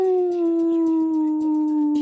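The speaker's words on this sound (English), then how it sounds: "There's a wolf behind me just running around with a fucking chew toy." A dog or wolf lets out a long, loud, close howl that slides slowly downward in pitch and is sustained through the whole stretch.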